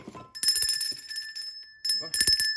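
A slightly rusty bell rings in a scratch card game, bright metallic chiming in two bursts with a sustained ringing tone, interrupted by someone speaking in between.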